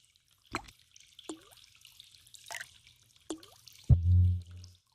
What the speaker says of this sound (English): I wondered how long it had taken for the leak to make a puddle that large.